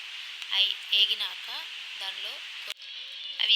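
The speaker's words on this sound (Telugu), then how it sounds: "వేసుకుని అది కొంచెం హీట్ అయ్యాక దానిలో బిర్యానీ మసాలాలు ఆకు, పట్ట, లవంగం అవి అన్నీ వేసుకోవాలి." Whole biryani spices such as bay leaf, cinnamon and cloves frying in hot dalda, a steady sizzle running throughout with brief stirring scrapes and a short dip near the end.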